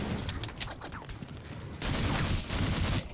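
MP5 submachine gun firing in the video game Half-Life on hard difficulty, rapid close bursts of loud automatic shots, a slightly thinner stretch mid-way, then an even denser, louder burst.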